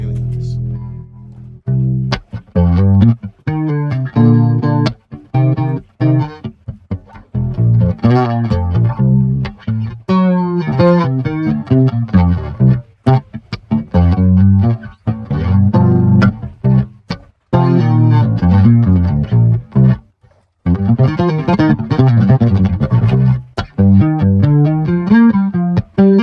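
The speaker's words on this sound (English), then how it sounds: "let's kind of dial in some chorus" Melodic bass guitar line played through a Boss Cube Street 2 amplifier's chorus effect, shimmering and slightly distorted, loud and close in continuous phrases with a few brief pauses.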